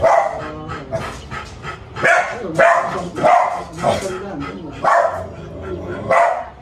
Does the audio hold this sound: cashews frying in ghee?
no